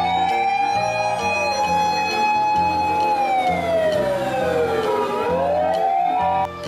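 A toy fire truck siren wails continuously, rising and falling in pitch with a steady electronic tone over a droning beat, loud and close throughout.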